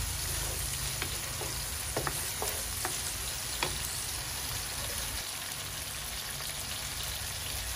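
Chicken cooking with tomatoes in a pan, stirred with a utensil that taps and scrapes a few times over a constant bubbling sizzle, close and even in level.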